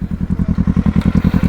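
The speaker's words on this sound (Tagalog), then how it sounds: "Ayan yung motor niya oh." A motorcycle engine runs close by with a loud, rapid, regular low thumping pulse and a slight crackling edge, heard alone without speech.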